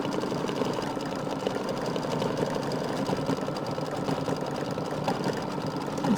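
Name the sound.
embroidery machine sewing a decorative stitch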